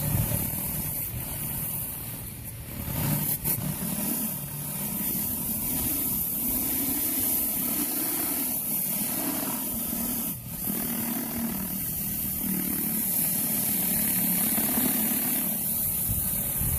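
A Mi-T-M 14-inch surface cleaner on an 1800 psi pressure washer cleaning a driveway, close: a continuous engine drone under a broad, steady spray hiss with a few brief dips.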